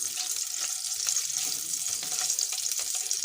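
Green garlic browns in a tablespoon of ghee in a pan for Singaporean rice, giving a soft, continuous sizzling hiss at moderate distance with no talk.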